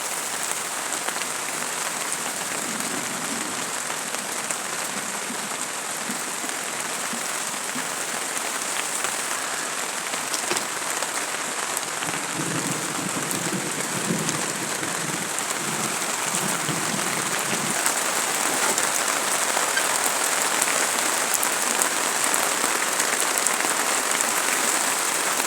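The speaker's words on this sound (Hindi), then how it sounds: "हमारे यहाँ पे दोबारा हो गई चालू बारिश" Steady outdoor rain falls on garden plants, making a dense, even patter that holds for the whole stretch with no voices over it.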